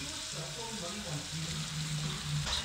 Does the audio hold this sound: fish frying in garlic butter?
yes